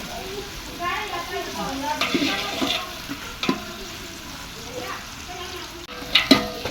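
Onions dropped into a frying pan with dry masala for pulao, giving a steady close sizzle and frying hiss, with scraping stir strokes and a few sharp clinks along the way.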